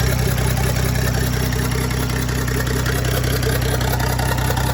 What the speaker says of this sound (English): Engine sounds alright.